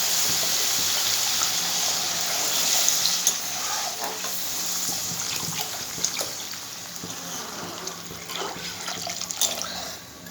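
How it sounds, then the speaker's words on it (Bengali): Water poured into spiced oil in a pan for a vegetarian dhokar dalna, giving a loud, steady sizzle and frying hiss that lasts the whole clip with no talk. "মশলা দিয়ে তেল ছেড়ে দিয়েছে, এর মধ্যে আমি দিয়ে দেবো জল।"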